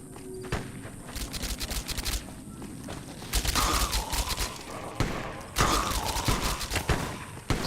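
Gunfire in the post-apocalyptic survival game Fallout DUST: several sharp shots and bursts, some close and loud, with quieter distant cracks and footstep-like clatter between them.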